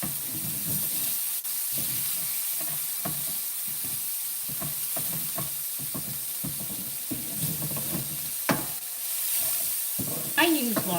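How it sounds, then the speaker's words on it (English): Ingredients for a slow-simmered tomato and meat sauce are sautéed in lard in a pan, giving a soft steady sizzle under repeated scraping stirs at a fairly regular pace, close by with no speech. "Okay, we're sauteing these"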